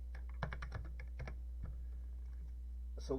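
Keys tapped on a Mitsumi membrane keyboard of a TI-99/4A home computer, a burst of several quick, close clicks followed by sparse single presses over a steady low hum, with a brief faint sound at the end.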